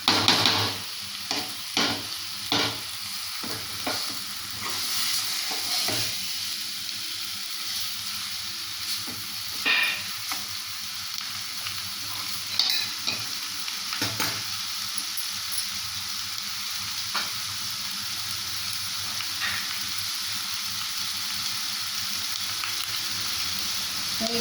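Vegetable pieces coated with salt and chili masala are stirred in a hot pan, a steady close sizzle of frying broken by repeated scraping and clacking strokes of the spoon, with no one talking.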